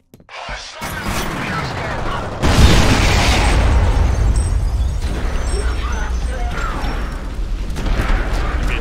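Explosive barrels blowing up in the shooter game F.E.A.R., a sharp blast followed by a big booming eruption with crackling debris and a long, loud rumbling tail.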